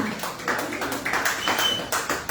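A church congregation gives a brief round of applause, scattered claps pulsing unevenly and moderately loud, with a faint tone behind them.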